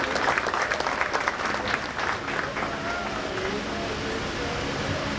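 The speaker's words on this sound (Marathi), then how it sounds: "जोरदार टाळ्या झाल्या पाहिजे." Loud, dense applause from a crowd at a Ganeshotsav event, a steady wash of clapping that rises at the start and then thins gradually as it carries on, with faint talk beneath.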